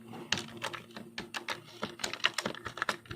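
Rapid, uneven keystrokes on a computer keyboard as C++ code is typed, a steady run of close, crisp clicks with short pauses and no voice.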